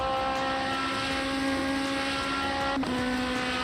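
Race car engine in the Automobilista 2 racing game heard from outside, a loud steady droning whine holding a constant pitch throughout, with a brief pitch dip near the end and no talking.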